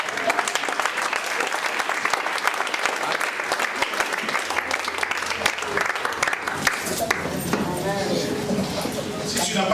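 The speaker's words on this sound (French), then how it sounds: "Est-ce qu'on peut acclamer le Seigneur?" Congregation applause at a church worship service, a dense steady wash of many hands clapping throughout, fairly loud, with voices mixed in underneath.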